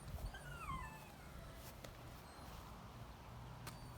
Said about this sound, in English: that's my super dog, by the way, barking.